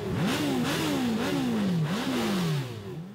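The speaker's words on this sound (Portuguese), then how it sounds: "Só de ouvir o ronco das motocicletas" A motorcycle engine roars loudly and close, revving up repeatedly in a series of rising surges before easing off at the end.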